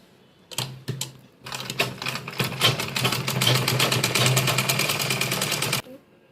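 A sewing machine stitches the top seam of a cloth vegetable organiser bag, bursts of rapid mechanical needle chatter, one short run followed by a longer steady stretch, close and fairly quiet, stopping cleanly.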